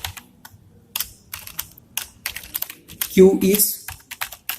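Rapid, uneven keystrokes clatter on a computer keyboard as code is typed, close and crisp in short bursts, with someone talking softly over the typing.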